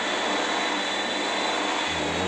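Steady, loud roar of an airplane in a video game, a broadband engine drone holding constant throughout with no talk.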